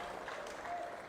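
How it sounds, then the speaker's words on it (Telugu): Audience applause at a political speech, brief and faint, a soft patter of clapping heard from a distance. "ఓకే, గట్టిగా చప్పట్లు కూడా అభినందించండి"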